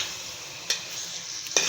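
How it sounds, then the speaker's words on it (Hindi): Chicken karahi frying and being stirred in a pan, a soft steady sizzle with two sharper scraping stirs close by, no talk. "ज़रा मैं इसको थोड़ा सा भून लूँ, फिर मैं इसमें शामिल करती हूँ और मसाले"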